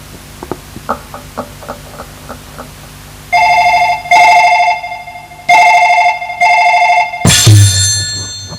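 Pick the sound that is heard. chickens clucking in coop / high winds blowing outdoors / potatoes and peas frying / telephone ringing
telephone ringing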